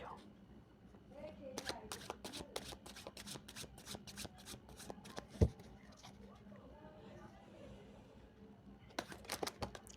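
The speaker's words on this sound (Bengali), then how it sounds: "এতগুলো কার্ড এইভাবে পড়ে যাচ্ছে" Tarot cards being shuffled and falling during a card reading, bursts of quick papery riffles and flutters with a sharp tap, while a voice talks over them.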